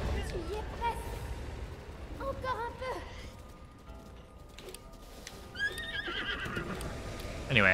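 A horse in Zelda Breath of the Wild whinnies several times in the middle distance, the neighs rising over steady clip-clop hooves while a player talks throughout.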